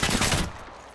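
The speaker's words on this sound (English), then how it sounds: "Wait, why are you shooting at me?" Gunfire in the Apex Legends video game, a rapid loud burst of shots in the first half second that fades into a decaying echo and quiet room tone.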